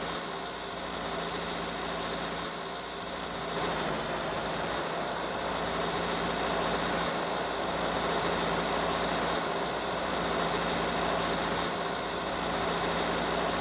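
Tractor engine in Farming Simulator 19, hooked to a baler on an alpine farm, idling and running steadily with a slightly rough, uneven tone, constant and fairly loud throughout with no talking.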